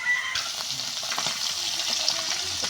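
Tilapia fillets rubbed in spices sizzle and crackle steadily in a frying pan, a dense, even hiss with small pops, close and continuous with no talking.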